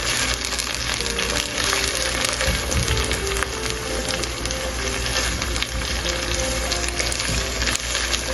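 Winter greens fry steadily in a pot, a continuous close, moderately loud sizzle with faint stirring scrapes and no voices.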